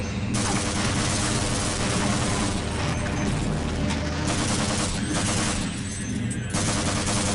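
Dense, rapid gunfire roars almost without pause while shooting a turret in Half-Life 1, loud and close, with a brief lull near the end before the burst resumes.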